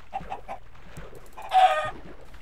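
A Minecraft chicken gives a few soft, short clucks, then a louder, brighter squawk-like burst partway through, all over a quiet game background.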